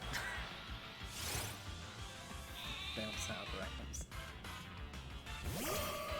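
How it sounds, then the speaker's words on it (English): Wooloo sheep bleats ring out in Pokemon Sword and Shield during a shiny hunt, mixed with game sound effects and a continuous talking voice. "I heard a sheep."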